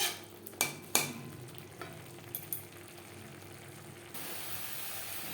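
Ghee being stirred over a low gas flame, a soft steady sizzle with a few sharp spoon-on-pan knocks near the start, then a louder even hiss toward the end.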